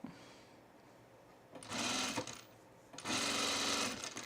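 A sewing machine stitching a Renee Dress from 5 out of 4 Patterns runs in two short bursts of rapid, even needle chatter, quiet and close, separated by a brief pause.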